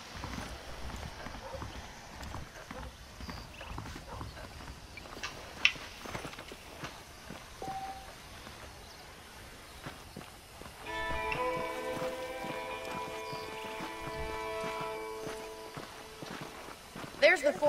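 Horse hooves in the video game Red Dead Redemption clip-clop at a steady walking pace, fairly quiet, with a sustained tone coming in partway through.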